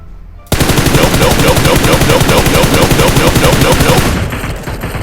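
Rapid automatic gunfire in PUBG Mobile, a dense unbroken burst of loud shots at close range that runs for about four seconds, then tails off into a fainter rumble.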